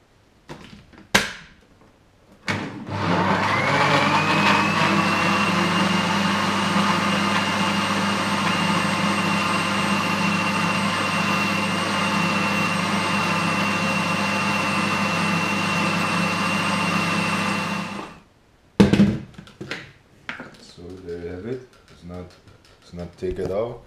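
A blender mixes a protein shake with a scoop of protein powder and banana, a loud steady whirring drone for about fifteen seconds that starts and stops abruptly, with brief clatter before and after.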